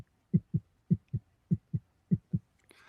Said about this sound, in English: your heartbeat moves into your head and your ears